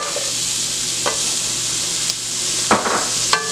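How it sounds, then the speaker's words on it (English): Chopped onions and carrots sauteing in a pan give a steady, close sizzle, with a few brief utensil taps and clinks against the pan as they are stirred. "to my sauteing onions here, I'm going to add my"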